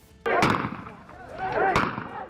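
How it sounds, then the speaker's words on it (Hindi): Rapid gunfire from news footage of a violent clash over a plot of land, heard as two loud bursts of sharp cracks over crowd noise and shouting voices. "इस दौरान ताबड़तोड़ गोलियां चलने की आवाज भी सुनाई दी।"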